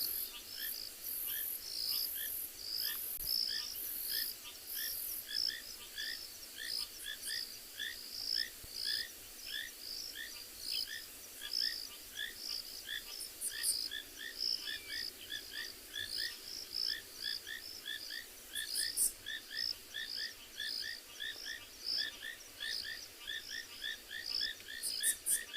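A dense chorus of small rain frogs calling at sunrise, rapid repeated chirps layered into a continuous pulsing trill, with no voices.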